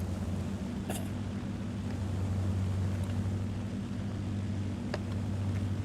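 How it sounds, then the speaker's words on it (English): An aircraft engine in War Thunder drones steadily and loudly, a constant low rumble with no breaks and no voices over it. "The main thing is I want you to hear this engine right here."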